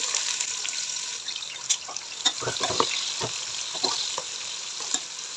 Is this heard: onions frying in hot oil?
yes